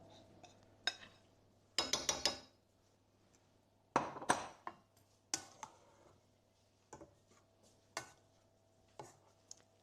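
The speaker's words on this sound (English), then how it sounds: "I'll just mix in the self-raising flour" Self-raising flour being mixed into a wet Welsh bara brith tea cake batter in a bowl: irregular knocks, clinks and short scraping bursts against the bowl, clustered in a few louder flurries with quiet gaps between, no talking.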